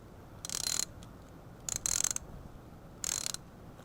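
A 17 mm ratchet wrench clicks in three short, close bursts while tightening a fastener on a Yamaha V-Star 950 motorcycle, each burst a rapid run of metallic pawl clicks separated by brief pauses.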